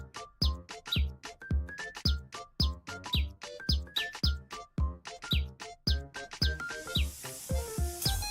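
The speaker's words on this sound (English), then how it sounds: "The blind lifts to reveal a blue wren on the windowsill where the radio previously sat." A blue wren chirps on a windowsill in a video game trailer, giving a steady run of bright, repeated tweets and whistled notes over soft plucked tones, with a hissing wash near the end.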